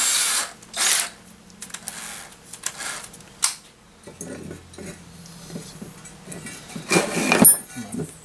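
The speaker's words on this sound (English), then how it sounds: "So we're going to start off with a 1/8 inch drill bit." A power drill fitted with a dull 1/8 inch bit bores into a piece during a garage door opener repair, with a sacrificial board underneath. The motor whines in several short bursts, separated by quiet gaps and a few clinks of handled metal.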